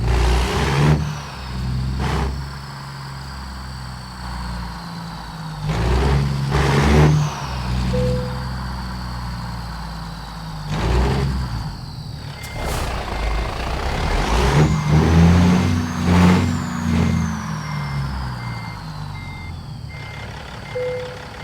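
A truck in American Truck Simulator parking: repeated reversing beeps ring out over a rumbling diesel engine that revs and idles, with a brief air-brake hiss, no talking.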